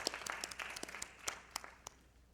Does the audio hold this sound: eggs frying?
no